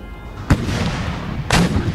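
Artillery firing in the video game Empire: Total War, two loud booming cannon reports about a second apart over a constant battlefield rumble.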